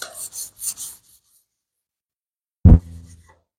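Sandpaper rasps across a rifle surface being prepared for Cerakote paint, three or four quick close strokes, then a pause and a louder thump with a short scraping trail.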